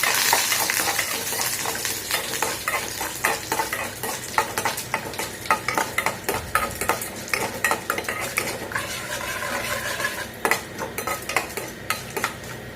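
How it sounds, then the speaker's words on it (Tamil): Mustard seeds and curry leaves sizzle in hot oil for a Tamil beetroot poriyal, a steady close crackle with sharp popping spits and the scrape of a spoon stirring against the pan throughout, no voices. "கடுகு நல்லா பொரிஞ்சு வந்ததும் கருவேப்பிலை போட்டுக்கலாம்."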